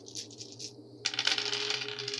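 Several dice tumble and clatter across a table during a tabletop role-playing game session, a brief rattling burst followed by a longer scattered roll, close and fairly loud with no talking.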